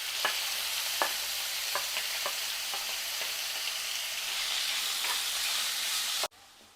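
Chopped medium onion fries in a pan with a continuous close sizzle, punctuated by several sharp stirring clicks, with no voices.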